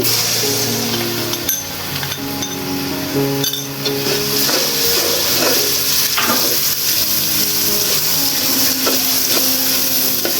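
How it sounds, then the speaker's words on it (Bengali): Spice paste for chicken biryani is added to browned fried onions and stirred, giving a steady loud sizzle with repeated clinks and scrapes of a utensil against the pan. "এখন আমি যে গুলে রেখেছি সেই মশলাটা দিয়ে দিচ্ছি"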